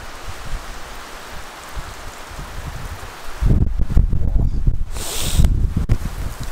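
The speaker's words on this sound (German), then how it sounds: "Oh, da kommt schon wieder Winde." Steady outdoor wind noise during a winter snowstorm in the Harz mountains surges into a louder, rumbling gust about halfway through, buffeting and roaring with no one speaking.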